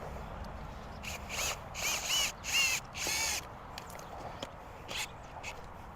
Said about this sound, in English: on these ones, you can drill straight in, but it's always better to drill at an angle